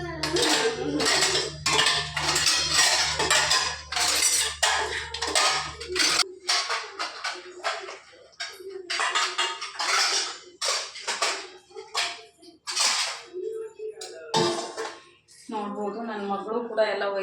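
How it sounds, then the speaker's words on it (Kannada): Steel dishes, spoons and utensils being put away in a home kitchen, repeated clattering clinks and metallic knocks in irregular bursts, with a steady hum early on and a voice speaking near the end. "ಅದಕ್ಕೆ ಇವಾಗ ಬೇಗ ಇಟ್ಕೊಂಡಿರ್ತೀನಿ ಪಾತ್ರೆ ಎಲ್ಲ."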